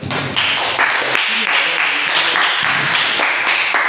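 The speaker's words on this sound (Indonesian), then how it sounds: "Oke, tepuk tangan." Applause from a classroom of students during a micro-teaching practice lesson: dense, steady clapping from a group that carries on for the whole stretch, close and fairly loud.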